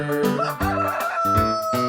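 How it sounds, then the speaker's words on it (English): A rooster crows close and loud in a drawn-out cock-a-doodle-doo, with no other sounds. "Rooster."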